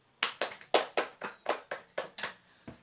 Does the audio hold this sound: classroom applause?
yes